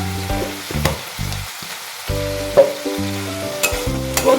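Ground spices with turmeric frying in a pan for Bengali masoor dal with ridge gourd, a close sizzling hiss broken by stirring scrapes and clatters, with a brief gap of near quiet.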